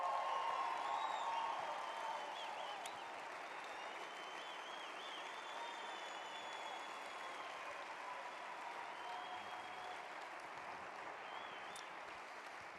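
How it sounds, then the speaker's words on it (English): Steady audience applause at a training convention, fading slightly after the first two seconds and continuing evenly throughout, moderately distant with a broad crowd texture. "Round of applause for sent out cards."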